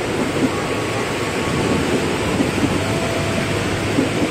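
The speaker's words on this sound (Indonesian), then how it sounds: "Hujan, deras sekali hujannya." Heavy downpour at Tanjung Barat train station, a dense, steady roar of rain blanketing the platform with no letup, loud and broadband, with faint thuds of water hitting surfaces nearby.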